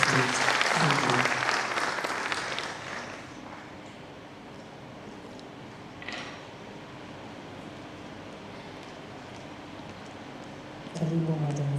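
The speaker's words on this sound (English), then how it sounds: "Let's clap for her" Audience applause at a panel discussion for International Women's Day, loud and dense for the first three seconds and then fading to a faint room hum with scattered noise, before a brief burst of sound returns near the end.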